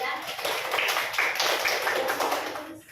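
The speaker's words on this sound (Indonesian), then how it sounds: "kita beri aplaus kepada kelompok 3" Classroom students clapping for a group that has just presented, a dense, fairly loud burst of hand claps from a small crowd that fades out toward the end.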